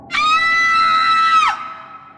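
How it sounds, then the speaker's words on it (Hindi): A queen lets out one long, loud, high-pitched scream lasting over a second, steady and piercing before dropping off abruptly into a fading echo in a palace. "रानी जोर से चीखी।"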